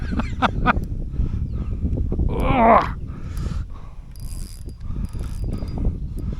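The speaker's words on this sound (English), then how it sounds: "I've got me drag loose so that it can swim." A loosened fishing reel drag lets line out to a hooked carp of about 16 pounds on 6-pound line, giving bursts of rapid ratcheting clicks close by, with a swell of whirring partway through.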